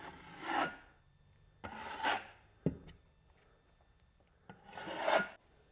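Putty knife blade lightly feathering spackle over a small patched hole in a wall, heard as three soft rasping scrapes with two short sharp taps between them, close and quiet, with no talking.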